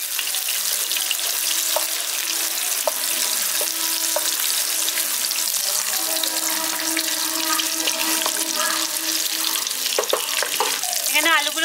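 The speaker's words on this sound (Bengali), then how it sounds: "এবার এটাকে লবণ হলুদ দিয়ে আমি ভেজে নিচ্ছি" Boiled potatoes fry in oil with salt and turmeric, a continuous close sizzle with occasional clinks and stirring, with faint talk in the background.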